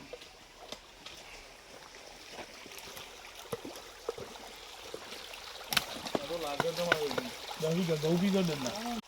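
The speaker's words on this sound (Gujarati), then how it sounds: "માત્ર ને માત્ર અહીંથી જ પાણી આવી રહ્યું છે" Spring water pours out from between rocks near Berana village, a steady close trickle and splash running throughout, with someone talking over it toward the end.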